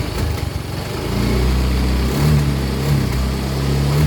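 A Yamaha Mio i125 scooter engine runs with a rough, uneven misfire, its low putter stumbling and surging at close range with no talking.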